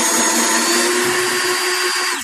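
A power drill whirs steadily and loudly as it backs out the outer screws of a refrigerator during cooling unit removal, one continuous run that tapers off at the end.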